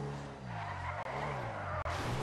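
A car drifting in GTA Online gives off a sustained, loud tire squeal over engine noise, unbroken except for two very brief dropouts.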